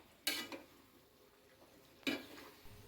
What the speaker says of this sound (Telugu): ఇలా ఒకసారి బాగా కలిసే విధంగా తిప్పాలి